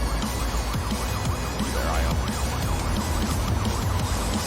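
Police car siren in the city-building game Cities: Skylines 2, a steady wailing sweep that runs loud and continuous throughout, with traffic noise underneath and a brief spoken line over it.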